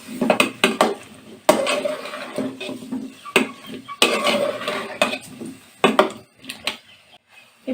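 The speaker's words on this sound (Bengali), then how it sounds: "এখন আলুগুলো আমি আরো 2-3 মিনিটের জন্য একটু ভালোভাবে কষিয়ে নেব।" Potatoes being stirred and fried in spice masala in a metal pan for dum aloo, a busy run of scraping and clattering utensil strikes against the pan, close and irregular with short pauses.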